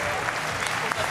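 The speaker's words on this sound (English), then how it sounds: "Round of applause to these guys." Audience applause at a Dreamhack Winter 2014 CS:GO esports tournament, a dense steady wash of clapping filling the hall throughout, with a voice faintly audible underneath.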